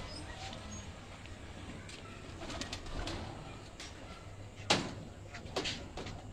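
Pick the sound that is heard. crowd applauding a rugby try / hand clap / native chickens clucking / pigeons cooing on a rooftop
pigeons cooing on a rooftop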